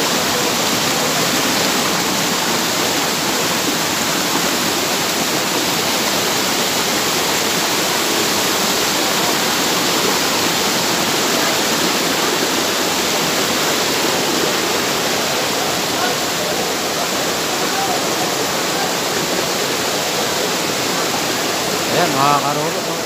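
Daranak Falls waterfall, a loud, constant roaring rush of falling water that fills the whole scene steadily without pause.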